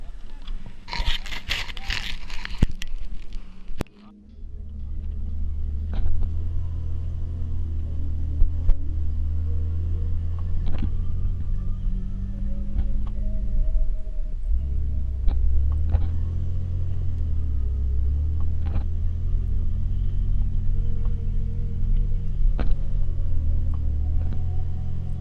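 A stock Toyota 4Runner in four-wheel drive rolls downhill in the rain, its low engine rumble steady throughout, with scattered knocks and scrapes from the rough terrain.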